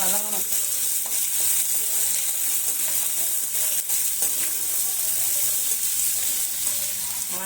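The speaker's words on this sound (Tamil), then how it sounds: "வெங்காயம், பச்சை மிளகா இதை வதக்கிக்குவோம்." Onion and green chili sauté in hot oil for a brinjal chutney, with a constant bright sizzle and occasional stirring clinks and scrapes, close and fairly loud throughout.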